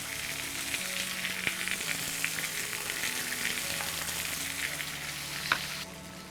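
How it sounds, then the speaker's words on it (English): Strips of pork frying in a hot pan for a Korean barbecue dish, a loud continuous sizzle with soft clinks and light scraping from the pan, ending in a quieter hiss. "we're gonna take our strips of pork and just place them onto the pan"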